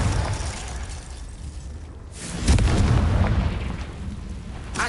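Fiery Confringo spell blasts from Hogwarts Legacy: a loud, broad booming burst hits around midway and rumbles on over continuous in-game combat noise.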